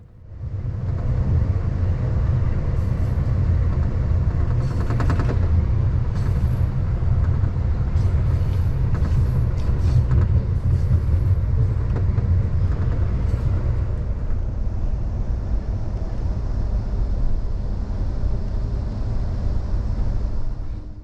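Amtrak's Coast Starlight rolling over a trestle, heard from inside as a loud steady low rumble with faint rattles and clicks from the wheels and car body.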